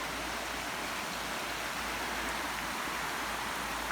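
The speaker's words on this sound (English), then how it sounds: "I'm actually at this beautiful river" A river flows steadily through the Limehouse Conservation Area, a continuous broadband rush of moving water held at an even level throughout, with no voices.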